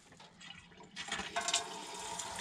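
Water runs from a fountain beside a mosque, starting faint and then swelling into a steady splashing flow that grows brighter and louder after the first second, with no talking.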